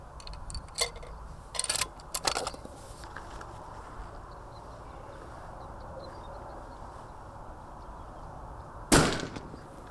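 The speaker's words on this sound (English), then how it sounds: "So we're first going to do one shot at 100 just to check where it prints." Outdoors at a 100-meter range mark, a single sharp, loud rifle shot cracks near the end after scattered small clicks and handling noises over faint ambient hiss.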